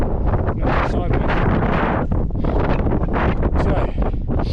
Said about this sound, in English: When you get on those exposed tops, oh my god, is it windy. Proper gusts.